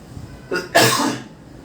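A person coughs indoors while air-conditioner air blows on their face: a short throaty burst followed by a louder, longer cough, close to the mic, then quiet.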